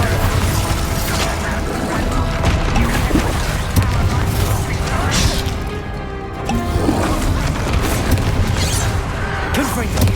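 Spell blasts and explosive bursts from a wizarding-school action video game, booming over a dense bed of game sound and music, with a voice shouting spell incantations.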